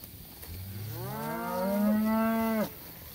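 A single long cow moo in a paddock, rising from a low groan into a loud drawn-out bellow that cuts off abruptly, with quiet surroundings before and after.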